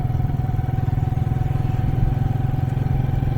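A motorcycle rides along toward an old colonial-era haunted bungalow in Pakistan, its engine a steady close, throbbing putter with rhythmic pulsing and some clatter, no talk over it.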